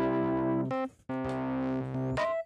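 An EVB3 organ with drive distortion plays held, gritty, buzzy tones. The first chord cuts off, a short gap follows, then another sustained chord returns before ending abruptly.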